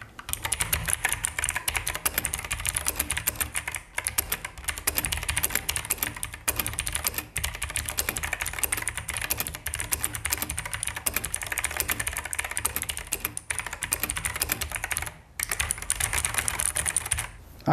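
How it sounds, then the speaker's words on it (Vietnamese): Typing on a Fuhlen M87S 2019 mechanical keyboard with new keycaps, with the mic aimed at the keys: a steady, dense run of close key clacks with brief pauses, no talk. "Sau khi hướng mic về phía chiếc bàn phím rồi, mình sẽ gõ một đoạn văn bản"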